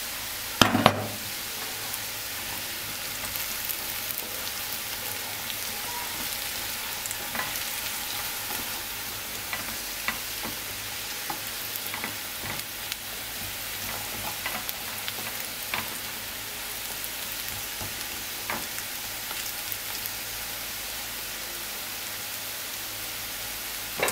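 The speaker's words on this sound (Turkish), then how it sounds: "Öncelikle patatesler bir miktar kızarsın." Potatoes frying in a covered pan make a steady crackling sizzle that runs the whole time, with scattered pops and a brief clatter near the start, close and alone without speech.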